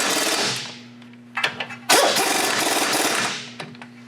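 An impact wrench tightens the brake caliper bolts on a 2007 Chevy Silverado in short rattling hammering bursts, one longer run, over a steady mechanical hum.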